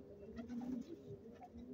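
A pair of Kalnoka (black-tipped) pigeons coos softly in a rooftop setting, low rolling calls repeating at a quiet, moderate distance.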